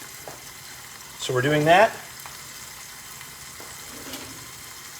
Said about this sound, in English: We're going to let the shallots cook down just a little bit.